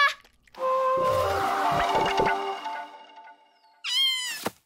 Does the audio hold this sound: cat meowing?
yes